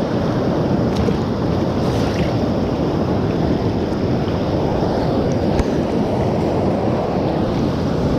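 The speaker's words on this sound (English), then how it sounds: "Right at the base of this waterfall," Water rushes at the base of a creek waterfall in the Smoky Mountains, making a loud, steady roar that fills the whole stretch with no talking.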